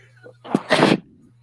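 A single sharp sneeze bursts out close to the microphone during a live wrestling reaction chat, a short broadband blast over a low steady hum, with a small breathy intake just before it.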